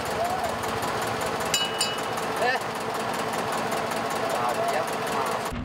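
Diesel engine of a fishing boat working the Bay of Bengal runs steadily throughout, a continuous mid-pitched drone with clattering mechanical texture and a few sharp clanks, fairly close and loud.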